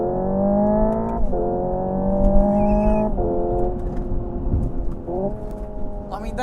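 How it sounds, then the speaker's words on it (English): Simulated engine and gear-shift sound from a Hyundai Ioniq 5 N electric car, a droning synthetic engine tone that climbs in pitch and drops sharply at each shift, repeating several times, with faint background chatter. "that one will give you the gears and the engine noise"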